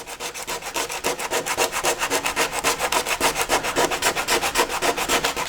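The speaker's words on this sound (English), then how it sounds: "You want to sand the immediate area." Rhythmic back-and-forth rasping of 60 grit aluminum oxide sandpaper on a racing shell hull around a damaged spot, about three strokes per second, close and steady with no talking.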